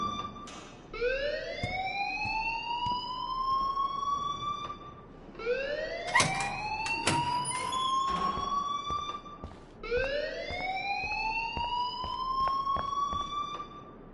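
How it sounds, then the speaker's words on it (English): A fire alarm in the Life is Strange video game wails in rising sweeps, repeating three times, each climbing in pitch and holding before dropping, over faint background clatter, with no talk. "please turn off that alarm since that's your job."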